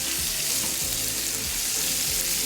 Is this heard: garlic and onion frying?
yes